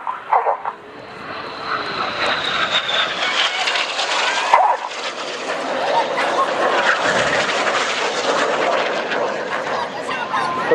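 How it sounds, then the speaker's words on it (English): Red Arrows display jets fly overhead and cross at Farnborough Airshow 2014, a continuous loud roaring jet rush that swells and holds for about ten seconds with a passing whine, under crowd noise. "The pilots are putting 6G in each cockpit and they're going to cross 3 times."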